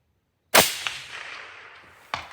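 A single rifle shot is fired at a 400-yard target, a sharp loud crack with a rolling echo that fades, followed by a fainter distant report about a second and a half later.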